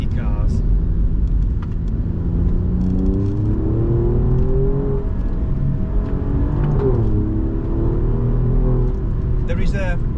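An Alfa Romeo Giulia Quadrifoglio's twin-turbo engine drones and climbs through the revs as the car accelerates, with a rising, wavering pitch and a steady rumble underneath, while a person talks over it throughout.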